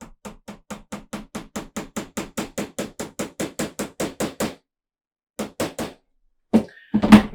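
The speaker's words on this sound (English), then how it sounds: "just like to use my hammer for this section." A small hammer tapping a tiny pin into the rudder of a 1/84 scale HMS Victory model ship, about twenty quick, evenly spaced light taps, then a pause and a few more taps, close and alone.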